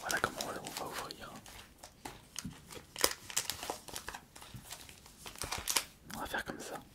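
Pokémon Elite Trainer Box packaging being opened, close crinkling and tearing of plastic and card in irregular bursts, with a soft voice speaking over it.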